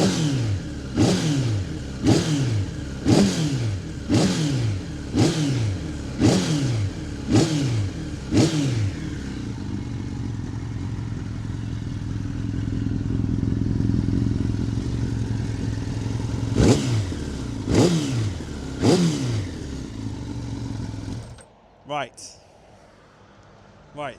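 A Suzuki GSX-R750 motorcycle engine, freshly started, revs repeatedly in sharp rising bursts, settles into a steady idle, then gives a few more quick blips before cutting off; loud and close, with no talking.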